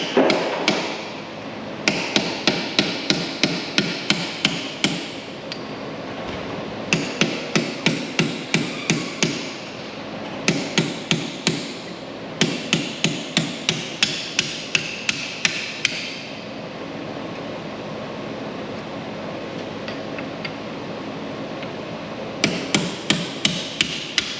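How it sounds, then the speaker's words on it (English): Hammer strikes drive out the pins on a Dodge SRT8's Brembo brake caliper, sharp metallic blows landing in quick bursts of about eight to ten hits with short pauses between, close and loud, no talking. "we're gonna go ahead, drive these pins out here"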